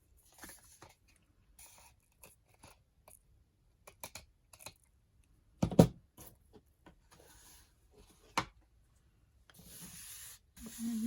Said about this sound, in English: And then trimming the excess paper on this side.